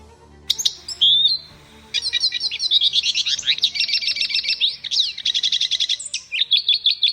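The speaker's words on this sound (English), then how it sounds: "And here's an example of its jumbled, complex song." Lawrence's goldfinch singing a jumbled, complex song: rapid chattering twitters and buzzy phrases delivered close and clear, in near-continuous bursts with no other sounds.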